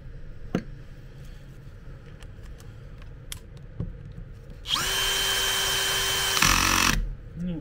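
Power screwdriver driving screws into a wheelchair gearbox, starting with scattered small clicks and taps, then a steady whirring motor run of about two seconds that shifts pitch before stopping, close and clear.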